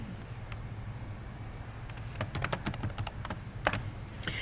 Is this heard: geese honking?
no